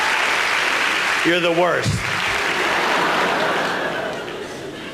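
Audience applause at a stand-up comedy show, steady crowd clapping throughout that tapers off near the end, with a brief spoken voice and some chuckling over it.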